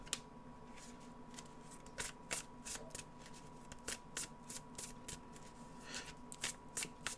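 Low-quality sleeved trading card deck riffled by hand in repeated short crisp bursts, close and quiet, spaced irregularly across the stretch with no voices.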